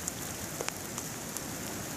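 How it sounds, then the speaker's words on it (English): Freezing rain comes down outdoors in winter, a brief continuous hiss of falling drops with a few light ticks on the surface, no one talking. "It is raining out today, actually freezing rain."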